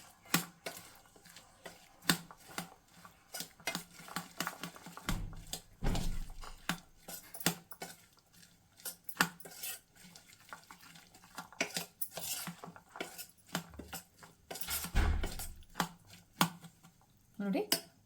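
A spoon mixes honey into chopped fruit for a Navratri prasad offering in a bowl. The stirring gives soft, wet scrapes and taps in irregular bursts, close by, with a voice talking at times.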